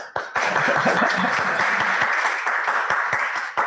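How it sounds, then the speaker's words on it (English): Audience applause at an arts interview series, greeting the introduced guest Raelle Myrick-Hodges; a full, steady round of clapping from a crowd, loud and close, starting abruptly and running for several seconds. "It's nice to hear applause"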